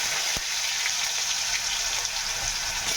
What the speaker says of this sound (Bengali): আলুগুলো ভাজতে দিই।